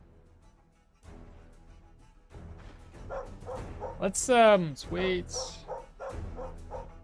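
Dogs bark in the dungeon-crawler Stoneshard, a burst of several yapping barks and a wavering yelp in the middle of the stretch, fairly close and loud, while someone talks over and around them.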